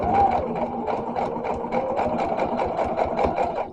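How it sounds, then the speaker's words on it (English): A sewing machine stitches fabric guided along a magnetic seam guide beside a ruler, its needle pounding out a fast, steady run of close, even pulses for the whole stretch. "Put your needle and you sew."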